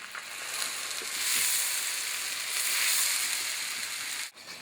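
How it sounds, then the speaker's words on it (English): All-purpose flour is whisked into melted butter for a blonde roux, with a steady, close bright sizzle and soft scraping of the whisk running throughout and a brief dip near the end. "Now that our butter's melted, we're going to put in our all-purpose flour. And start a whisking."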